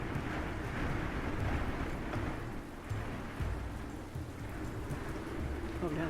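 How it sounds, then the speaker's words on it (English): Steady rain and wind from a storm in a video game set in Scandinavia, a continuous dense hiss of falling rain with low rumbling gusts throughout. "Ooh, I love a good storm."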